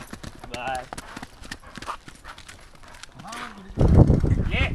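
A mare's hooves clip-clop with a loose, uneven rhythm while people talk and call out loudly over the steps.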